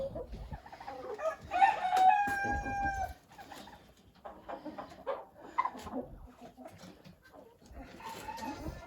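Chickens on a small farm cluck and a rooster crows close by, a drawn-out crow near the start followed by scattered clucks and calls, with faint human speech in the background.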